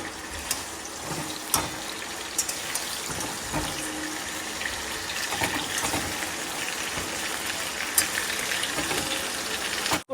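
Food fries in a pan with a steady, close sizzle and crackle, broken by occasional sharp clicks and stirring scrapes.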